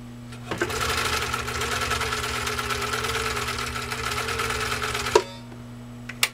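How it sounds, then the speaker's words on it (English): Husqvarna Viking 21A sewing machine, a 1.5-amp model, stitching at a steady fast pace for about five seconds, near and loud, with a low motor hum throughout, then stopping with a few small clicks. "So let's see what this wonderful machine can do. Again, Husqvarna 21A"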